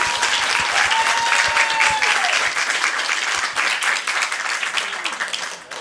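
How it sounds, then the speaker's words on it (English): An audience at a Burbank board of education meeting breaks into a sustained round of applause, dense clapping filling the room for several seconds and tapering slightly toward the end, with a voice audible briefly early on. "let's give them a round of applause for such an amazing accomplishment"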